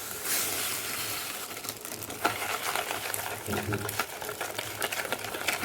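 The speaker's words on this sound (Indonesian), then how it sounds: "kita aduk-aduk, kocok lepas, masukkan gulanya" Brownie batter being stirred and whisked in a bowl with sugar added, a steady scraping, swishing churn that runs continuously with brief clinks and taps against the bowl.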